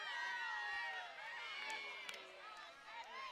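A softball crowd at a high school game between the Boerne Champion Chargers and Pieper Warriors gives a sustained mixed murmur with rising shouts and scattered cheers, loud and continuous across the stands.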